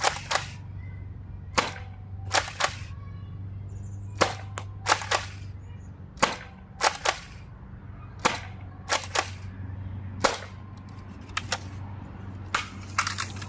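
A Nerf Rival blaster fires foam rounds in sharp, snappy pops, about a dozen spaced irregularly over the stretch, close and loud with no talking.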